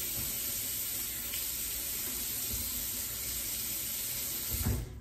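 Tap water runs steadily into a sink to dampen a washcloth, a soft continuous hiss lasting throughout with a slight swell near the end, close by and with no talk.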